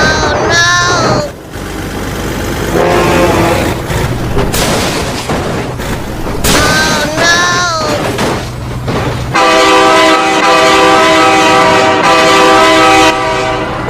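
A loud train horn blasting repeatedly in BeamNG.drive, with rumbling rail noise and crashing game sounds in between, ending in a long sustained horn blast; excited voices shout over parts of it.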